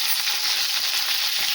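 Curry leaves hitting hot oil with roasted peanuts while making mango chitranna, a bright, steady crackling sizzle that stays loud and close throughout, with no talking.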